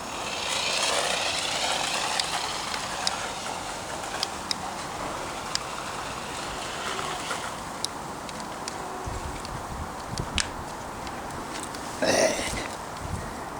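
A Hongdi Hotdeer mini 1/18 two-wheel drive RC car drives outdoors through grass: a thin, whining electric motor buzz with scattered clicks and rustles, steady throughout, briefly louder near the end.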